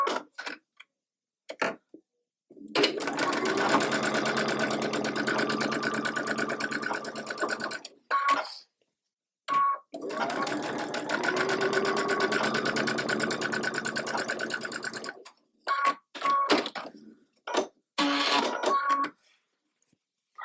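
A sewing machine stitches quilt block pieces in two long, steady runs of rapid mechanical ticking, broken by short bursts and pauses between seams.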